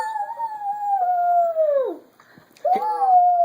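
A young child imitates a wolf howl, giving a long sliding wail that drops away, a brief pause, then a second rising howl, close and loud.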